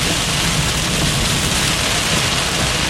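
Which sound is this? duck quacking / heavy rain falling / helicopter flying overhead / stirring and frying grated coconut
heavy rain falling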